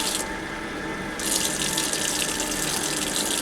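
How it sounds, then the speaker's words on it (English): Water runs steadily from a tap as a quarter cup is added to pumpkin chocolate chip muffin mixture, a continuous hiss that grows brighter and louder partway through. "you're also going to add 1/4 a cup of water to this mixture."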